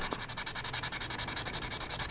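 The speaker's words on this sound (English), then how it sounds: "this is a 3M fine sanding sponge, and we're going to sand" A 3M fine sanding sponge rubs back and forth over a small plastic 1/72 Sinanju model kit part in fast, even strokes, a soft continuous scratchy hiss heard close and fairly quietly.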